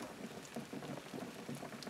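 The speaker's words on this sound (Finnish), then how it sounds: "Nyt se saa siinä kiehua." Moose meat soup bubbling in a pot on a stove hotplate, a quiet, steady simmer of small popping bubbles and faint liquid crackle throughout, close and soft with no voices.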